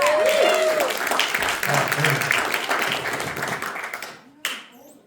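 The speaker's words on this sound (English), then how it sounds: "Clap it up for Matt." Audience applause and clapping at a comedy show in Watertown, Connecticut, a dense crowd roar filling the room for several seconds before tapering off, with voices mixed in.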